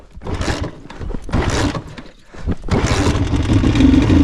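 An Alfa Romeo engine that had been seized cranks and catches after a couple of rough bursts, then runs loud and uneven close by.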